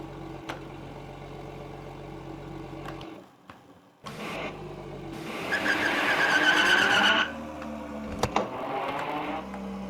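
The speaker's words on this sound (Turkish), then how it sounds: "şöyle arabayı azıcık oynatayım" Car driven in a Unity game scene: a steady low engine hum, then a louder burst of tire skidding and revving in the middle, followed by quieter engine noise, with no one talking.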